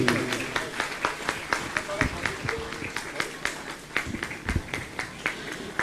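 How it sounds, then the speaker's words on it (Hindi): Audience clapping in honour of donors at a Jain religious gathering, a steady patter of many hands with sharp individual claps spread through the hall, continuing throughout with no clear talk over it. "सभी महानुभावों के सम्मान में ताली बजाएंगे"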